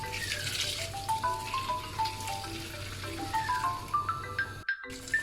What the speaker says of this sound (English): I put all this inside and then turn on the heat and I add some boiling water.